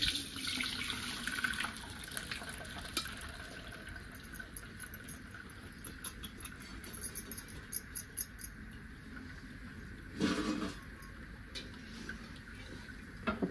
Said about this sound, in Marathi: इकडे पुरणाची चाळणी ठेवली, म्हणजे पूर्ण पाणी डाळीतलं नितळतंय